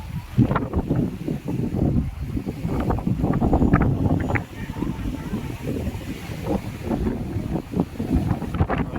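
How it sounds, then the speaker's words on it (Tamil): Wind-driven waves lap and splash continuously along the Chembarambakkam Lake shore near the dam while strong wind buffets the microphone, a voice talking intermittently over the rough, steady wash. "பீச்சில் அலை அடிக்கிற மாதிரி அலை வந்து அடிச்சுட்டு காற்றுல வர அலை இது"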